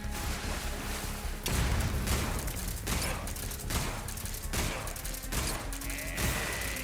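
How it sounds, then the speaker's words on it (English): A grenade goes off in the stealth action game Metal Gear Solid Delta: Snake Eater, a dense run of loud booming blasts and crashing gunfire-like bursts that fills the whole stretch with little pause. "That is a grenade. We're going to have to dive."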